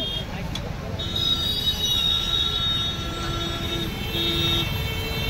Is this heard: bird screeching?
no